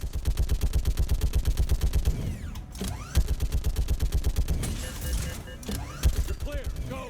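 Turret gunfire rattles in rapid, evenly spaced bursts in the Mass Effect 3 video game, loud and close, broken by brief pauses and whooshing projectiles.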